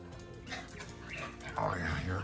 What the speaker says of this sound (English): Oh yeah, you're a good dog.